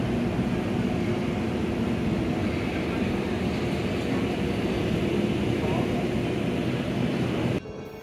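Glacier Express cogwheel train engine running near and loud, a steady low rumbling drone with constant mechanical roar that drops off abruptly at the very end.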